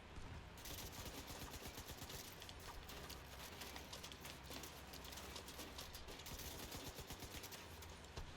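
Rapid bursts of video game gunfire from The Division 2 crackle continuously from a distance, dense overlapping shots with no pauses throughout.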